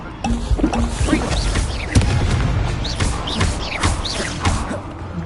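Incendio fire spell cast in a Harry Potter video game: a sudden whooshing burst with a sharp boom near the two-second mark, set among layered magical effects and swirling combat noise that continue steadily throughout.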